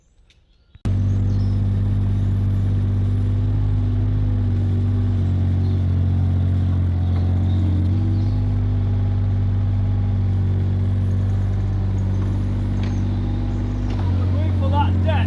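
A digger's diesel engine starts and then runs steadily at a loud, low, continuous rumble while levelling ground for landscaping and wall foundations, with faint clanks near the end.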